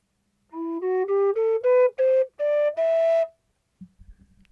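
A minor scale played on a synthesized whistle-like tone rises in eight distinct stepwise notes, each clean and sustained, the last one held longer, with a faint thump after it finishes.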